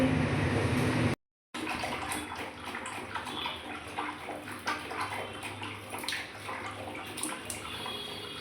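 Water splashing and sloshing in a village pond as people bathe, a continuous wet churning with a brief gap of silence early on.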